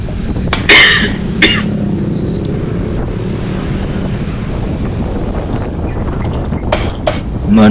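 A few sharp coughs close by, with a pair early on and more near the end, over a steady background rush like wind or surf.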